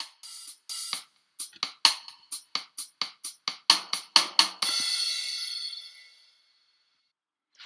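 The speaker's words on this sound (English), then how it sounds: "So that's the sound of the drums." A drum track playing back in Pro Tools: about fifteen sharp, evenly spaced hits, loud and close, ending in a long ringing cymbal-like wash that fades over a second or two, with no talking.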